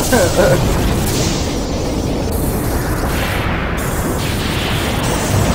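Booming explosion effects from Final Fantasy X, a dense, loud rumbling burst that carries through the whole stretch under game sound, with people's voices likely mixed in.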